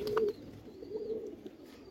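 Pigeons of fancy breeds coo in a short low burst, fairly faint, followed by softer murmurs and faint chirps against a quiet background.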